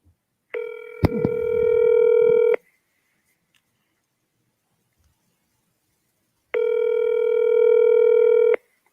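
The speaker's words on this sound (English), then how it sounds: "Can you guys hear the ringing?" Two bursts of a telephone ringback tone play over a speakerphone, each lasting about two seconds with a long silent gap between them, loud and steady, with a brief click or bump near the start of the first.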